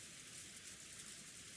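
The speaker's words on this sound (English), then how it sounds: "Yes, it must be the sound of rain." Steady rain falling in the visual novel game Umineko, a soft continuous hiss of drops on a surface, faint and even throughout with no voices.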